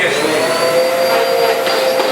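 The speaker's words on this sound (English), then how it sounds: "Turn on that vacuum just for the hell of it." A vacuum cleaner runs steadily and loudly throughout, a constant whining drone with a high tonal hum and no break.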